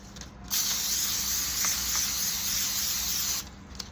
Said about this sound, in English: So here's my butter spray. Grease this.